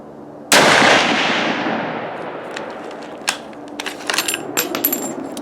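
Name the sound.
rifle gunshots at target range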